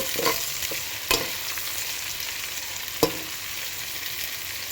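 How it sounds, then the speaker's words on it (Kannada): Chopped tomatoes frying with onions in a pan for mushroom biryani, a steady close sizzle with a couple of sharp scraping stirs of a spoon. "ಸೊ ಟೊಮೊಟೊ ಸ್ವಲ್ಪ ಸಾಫ್ಟ್ ಆಗೋವರೆಗೂ ಫ್ರೈ ಮಾಡ್ಕೊಳ್ಳಿ"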